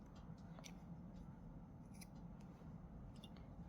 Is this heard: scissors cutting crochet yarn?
yes